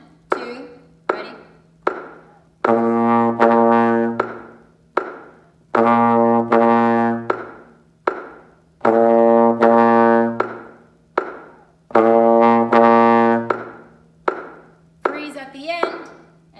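A trombone plays quarter notes separated by rests: sustained brassy tones in regular groups, with short spoken counts filling the gaps between phrases.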